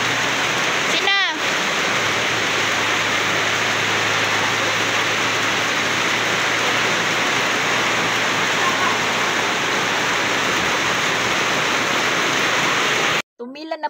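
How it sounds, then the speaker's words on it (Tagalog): Dense, steady roar of heavy rain pouring down, broadband and continuous, with a brief higher whistling sound early on before it cuts off abruptly near the end. "Isang buhos lang ng ulan"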